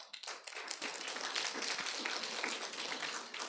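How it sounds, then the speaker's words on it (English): An audience at a supply chain conference session breaks into a brief burst of applause, many hands clapping at moderate volume for a few seconds, without talking. "That deserves a round of applause,"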